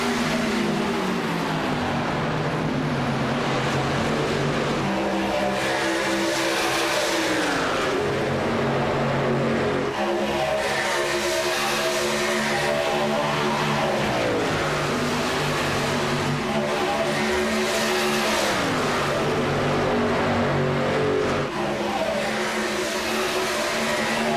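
Race cars circling a track in a contender series event, engines roaring loud and continuous with repeated rising and falling pitch sweeps as cars run bumper to bumper past the listener.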